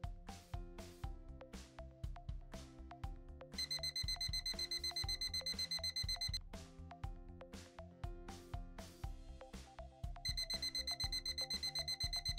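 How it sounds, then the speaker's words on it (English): Alarm on a 4730 thermometer during a high or low alarm, a steady repeating electronic beeping that runs continuously over a background of music-like tonal sound, loud and close, with bursts of pulsed tones recurring. "When your 4730 thermometer alarms, it will continuously ring for 60 seconds."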